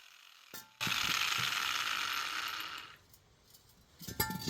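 A ratchet clicks rapidly for about two seconds, loud and close, while bolts come out of a Dodge Dakota front axle, with a few faint metallic clinks before and after.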